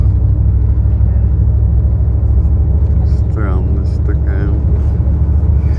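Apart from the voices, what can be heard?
bus driving along a road, heard from inside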